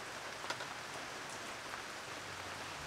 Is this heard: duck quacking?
no